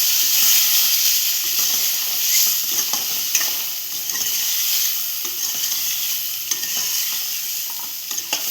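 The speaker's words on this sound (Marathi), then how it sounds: "आता आपण ते झाकण काढून घेऊया. त्याला एकत्र करून घेऊया एकदा." Fish curry in a pan, stirred right after the lid comes off, gives a steady, close sizzle and hiss with soft scraping stirs and light clinks throughout.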